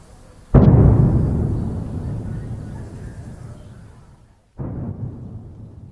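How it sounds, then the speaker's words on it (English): In Kherson, a single heavy explosion booms suddenly, then rumbles and decays slowly over several seconds. After a brief break, a second, quieter rumbling blast follows. "explosion"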